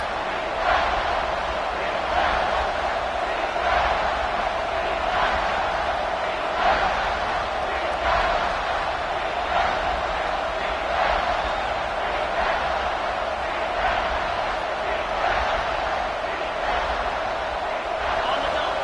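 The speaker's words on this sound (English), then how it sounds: "Here comes this home crowd as the defense tries to get off the field on 3rd down." A home crowd at a college American football game rumbles and cheers steadily as the defense faces third down, a broad sustained roar under a play-by-play commentator's continuous talk.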